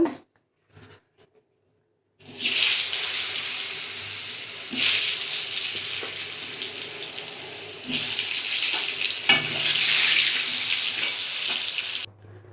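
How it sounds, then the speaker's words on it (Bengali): Potatoes fry in hot oil in a home kitchen, a bright hiss and sizzle starting after a short quiet and rising in waves with occasional stirring, alone without talk. "পটল ভাজা তেলের মধ্যে আলুগুলো ভেজে নেব"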